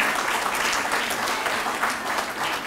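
Applause from an audience at a Greek reservists' association event, a steady dense wash of clapping filling the whole moment without talk.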